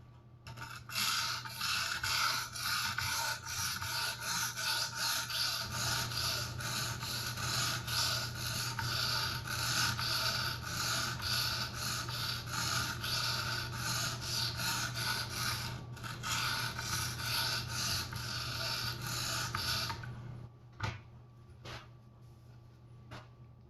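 A folding knife blade is drawn across an Edge Pro Apex sharpening stone in a long, close, continuous scraping rasp that stops near the end, followed by a few light taps.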